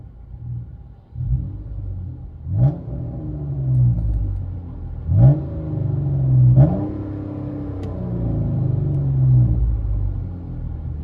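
From inside the cabin, a 2016 Chrysler 200 V6 with straight-pipe dual exhaust rumbles at idle and is revved three times, each blip rising and falling over a steady low drone.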